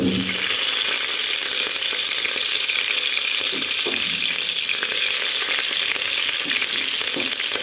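Curry leaves, onions and thinly slit green chillies fry in oil in a pressure cooker, producing a loud, even sizzle with small crackles throughout and no speech over it.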